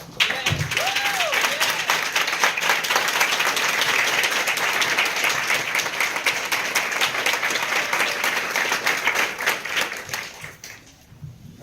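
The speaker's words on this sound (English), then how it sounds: "stand up and applaud yourself for being here" A seminar audience stands and applauds, a long, loud, dense stretch of crowd clapping that holds steady for about ten seconds before tapering off near the end.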